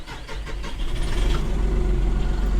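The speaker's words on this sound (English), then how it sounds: "He puts the key in the ignition and starts it up." A John Deere 5075E tractor cranks with a few rhythmic starter turns, catches, and settles into a loud, close, steady diesel rumble at idle, with no one talking.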